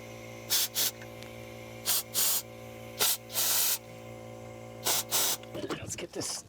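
Compressed air blowing out parts on a Cadillac Escalade: several short, sharp hissing bursts, some single and some in quick pairs, over a steady low hum, ending in mechanical clatter.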